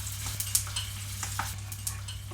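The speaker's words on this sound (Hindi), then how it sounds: "अब इसके अंदर मैंने अदरक लहसुन का पेस्ट फ्राई कर लिया है" Soft sizzling and frying of ginger garlic paste in mustard oil with occasional stirring scrapes, fairly quiet over a low steady hum, with no talking.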